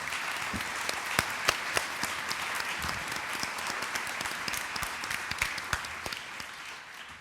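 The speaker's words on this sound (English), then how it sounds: "give a round of applause again in appreciation to all of our alumni speakers" Audience applause for alumni speakers at an event, a steady wash of many hands clapping with a few sharper individual claps standing out, sustained at moderate level throughout.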